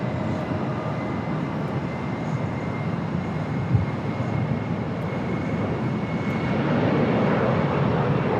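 A British Airways airliner at Los Angeles LAX airport gives off a steady, broad jet engine roar that holds loud and even throughout and swells slightly near the end, with no voices.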